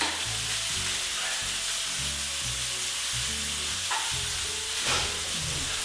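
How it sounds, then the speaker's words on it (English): Ground beef frying in a hot pan gives off a steady, loud sizzle and hiss throughout, with occasional stirring scrapes rising above the constant crackle. "You hear that sizzle?"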